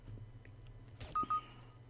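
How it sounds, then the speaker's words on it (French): Two small electronic beeps in the video game CS:GO, quick and close together, sounding after a brief muffled thud over faint background noise. "Pourquoi il y a un petit bip?"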